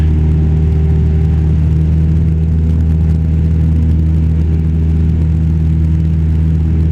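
A small training airplane's engine drones at full power during a go-around, a loud steady low rumble with a constant hum and no speech.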